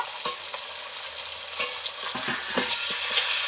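Green chillies and ginger-garlic paste frying in a pan, a steady close sizzle with stirring scrapes and small pops throughout.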